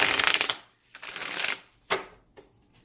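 Tarot cards are riffled and shuffled up close in a few rapid bursts of papery flutter, then short brushing snaps as the deck settles.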